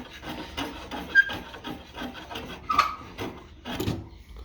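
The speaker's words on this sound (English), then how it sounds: "Just take a file to it, flatten it." A file rasps rhythmically across a wooden carving axe handle, making repeated close scraping strokes with a few brighter scrapes mixed in.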